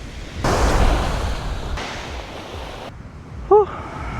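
Sea waves wash steadily onto a beach at a camp by the sea, a broad rushing hiss rising and falling in long swells, with a short clink near the end.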